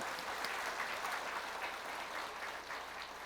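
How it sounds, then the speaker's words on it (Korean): A church congregation applauds a choir at a Christmas service, steady full clapping from many people filling the room with no talk over it. "박수 한번 합시다"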